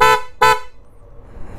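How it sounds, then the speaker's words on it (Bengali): Two loud, clear blasts from a P horn fitted to an Apache RTR 160 4V motorcycle, each about a fifth of a second with a short gap between, followed by low background noise. "এখন যেটা টেস্ট করা হচ্ছে এটা হচ্ছে পি হর্ন"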